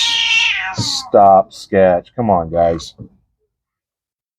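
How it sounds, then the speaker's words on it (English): An agitated cat shut inside an enclosure lets out a long descending yowl followed by several short, close meows, with a person speaking briefly among them before silence. "My angry cat."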